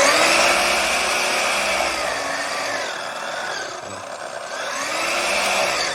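A Festool Symmetric radial saw running at speed setting 6, a loud steady whine from the motor that sags a little in the middle and then rises again, with no talking.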